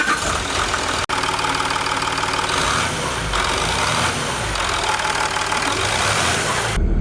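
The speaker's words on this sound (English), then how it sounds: "Engine is running, we got oil pressure" A rebuilt Land Rover Discovery 3 TDV6 diesel engine runs steadily at idle, a loud, close, even rumble with a light mechanical clatter that continues without a break, except for one very brief dropout early on.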